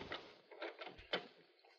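A bedroom door opens in an old radio drama, heard as a quiet creak and wooden clunk with a brief latch click, faint against a muffled background.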